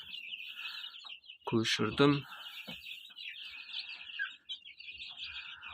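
Young chicks chirp in a coop with a steady stream of high, overlapping peeps that runs throughout, while a person talks close by over them.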